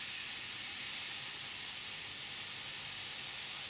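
A paint spray gun running at about 30 psi, spraying neat paint along a bottom edge with a slightly spitty flow, gives a steady, loud, close hiss that holds evenly for several seconds before cutting off abruptly at the end.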